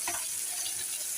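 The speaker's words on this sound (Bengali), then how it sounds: "মাছটা আমি খুব সুন্দর কড়া করে ভেজে নেব।" Fish coated in turmeric, chili powder and salt fries in hot oil, a faint, steady hiss of sizzling heard close and without talk.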